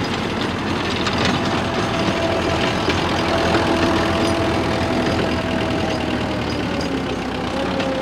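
A single-cylinder tractor engine pulls a 7 ft double-shaft pair of rotavators through a field with a steady, loud, unbroken drone and mechanical rumble, with no speech over it.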